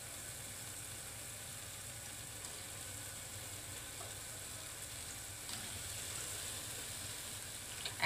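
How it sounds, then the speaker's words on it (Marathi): Gulgule, sweet jaggery fritters, frying in oil over a medium gas flame, giving a steady, even sizzle with soft bubbling that holds throughout, close and moderately quiet with no voices. "आणि मीडियम गॅसवर भाजा म्हणजे छान भाजतात आपले."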